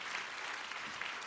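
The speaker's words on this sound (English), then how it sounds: "If I can ask for a big round of applause for them." A conference audience at a European employment and social rights forum applauds its panelists after a session, a brief burst of dense, even clapping heard alone at moderate volume.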